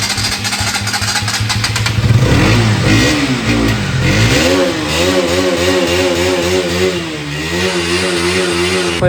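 A motorcycle engine with a newly replaced battery catches close by and loud, then revs up and down repeatedly in rising and falling surges before settling to a rough idle. No one speaks.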